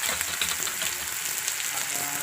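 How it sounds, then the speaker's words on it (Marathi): Tomatoes and onion sizzle and fry in a hot pan with a pinch of salt, giving a steady, close crackling hiss with faint scraping from stirring throughout. "टोमॅटो भाजून थोडंसं मीठ टाकायचं, म्हणजे लगेच टोमॅटो भाजला जातो."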